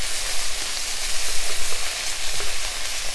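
Shredded cabbage sizzles loudly and steadily while being stir-fried in a pan for a vegan dish, a dense continuous crackle with small spits and pops and no voices.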